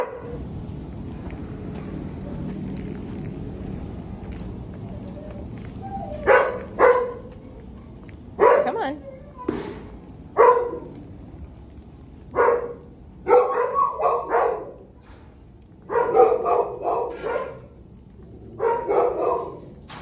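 Dogs in a shelter ward barking, quiet at first, then a series of sharp, loud barks and yips in short clustered bursts with brief pauses between, close by and continuing to the end.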